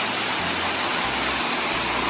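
Princess Falls in Daniel Boone National Forest pours in a steady broadband rush of falling water, constant and even, with faint low rumbles underneath and no voices.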